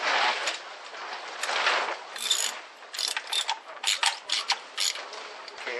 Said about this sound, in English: snug it up just a little, and you notice where I'm holding the ratchet